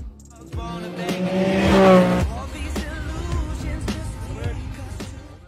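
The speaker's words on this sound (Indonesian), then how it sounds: "Kemudian Cody pun berangkat menggunakan mobil 2 pintu tanpa atap." A two-door convertible car in a film drives off with an engine rev and tire squeal, the motor swelling loudly then settling into a steady run amid other film sounds.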